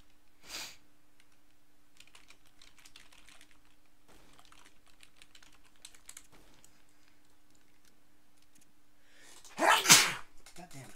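A loud, sudden sneeze bursts out near the end after a stretch of quiet keyboard typing and faint room noise, with a few clicks scattered through.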